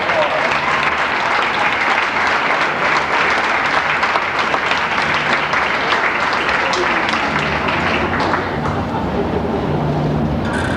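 Pageant crowd clapping steadily and loudly for the crowned Cutie Queen and King, with some voices and cheers mixed into the sustained applause.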